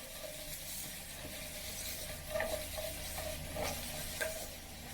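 Chicken pieces sauté with thyme in a hot pan, a steady close sizzle with soft scraping stirs running throughout and no talking.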